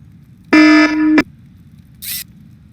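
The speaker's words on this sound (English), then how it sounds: "Oh, sorry, I left my alarm on." A loud, harsh electronic alarm tone blares for under a second and stops abruptly, followed by a short burst of hiss.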